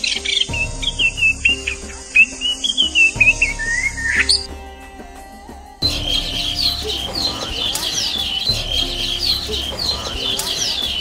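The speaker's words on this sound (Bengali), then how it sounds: "সুমধুর কুজানে চারদিক মুখরিত করে রাখা এই পাখিগুলোর অস্তিত্ব টের পাই" Birds singing outdoors, with loud, close repeated chirps and squawks in quick bursts, then a shift to a busier chorus of birdsong layered over a constant insect and cricket drone.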